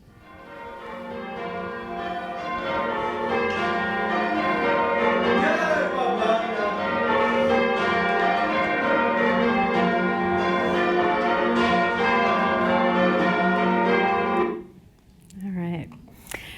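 Church bells peal Plain Bob Minor in rapid change-ringing sequence, a dense overlapping cascade of tones for about fourteen seconds before stopping, with a brief voice afterward.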